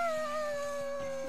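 A character's voice imitates a wolf howl in The Last of Us Part II, one sustained wavering tone with no other talk.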